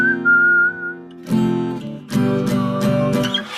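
A person whistles a melody in several phrases with short pauses between them, accompanied by what sounds like an instrument, close and clear, with no speech.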